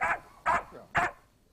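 Dogs barking by a countryside footpath: three sharp barks spaced about half a second apart, fairly close and loud, with no one speaking.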